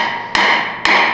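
A metal pipe gives way during a Mustang mini stock race car overhaul, heard as two sharp, loud cracking snaps about half a second apart, each with a brief ringing tail.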